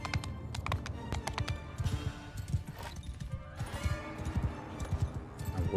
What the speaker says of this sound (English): Here I am on my slow ass horse.